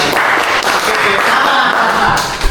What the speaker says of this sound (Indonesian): Let's make applause for them.